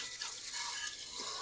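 Tap water runs steadily into a sink while sausage casings are rinsed to wash off salt, a broad continuous hiss with a slight splashing texture, close and alone.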